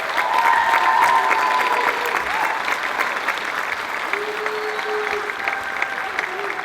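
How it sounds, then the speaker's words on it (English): A hall of fame ceremony audience gives steady, dense applause for the nominees, a broad even wash of clapping that fills the room throughout, with faint voices mixed in. "Let me start by asking for a warm round of applause for all of our nominees tonight."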